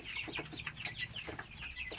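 Chickens clucking steadily on a poultry farm, a dense flock of overlapping calls close by with no speech.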